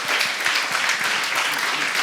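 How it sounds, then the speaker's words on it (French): Audience applause at a youth peace forum in Normandy, a dense, steady wash of many hands clapping together, loud and sustained without a break and with no voices over it. "On peut vous applaudir"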